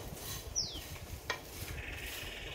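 Ivy gourd fry with grated coconut, green chillies and dried red chillies is tossed in a pan. A utensil scrapes quietly against the metal in a few short strokes over a faint background hiss.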